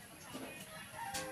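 Hens cluck briefly and faintly around a chicken coop under construction, a few soft calls over a low background hum.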